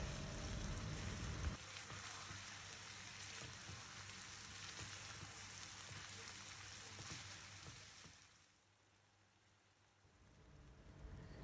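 Steady broadband sizzling of food frying in a pan for spaghetti Bolognese sauce, continuous and fairly loud, easing off briefly near the end before picking up again.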